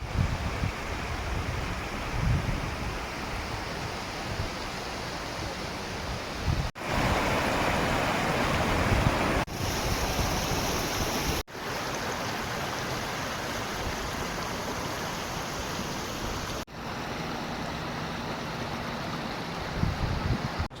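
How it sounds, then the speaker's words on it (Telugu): Water flows steadily in a stream at Chaprai, a continuous rushing wash with a constant roar, close and fairly loud, with no talking throughout. "చూసారు కదండి, సో వాటర్ అయితే ఇలా వస్తుంది"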